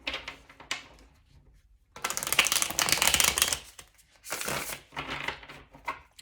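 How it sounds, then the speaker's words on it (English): A deck of tarot cards is shuffled in several bursts of dry riffling and flapping, separated by short pauses, close and fairly loud with no talking. "Do one last shuffle."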